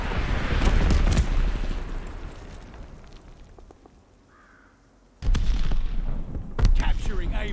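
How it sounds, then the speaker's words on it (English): Heavy bombing-run explosions in the Call of Duty: Vanguard multiplayer game, booming blasts and rumbling impacts at the start, then a quieter lull before more loud, sharp detonations burst in near the end. "Allies called a bombing run incoming"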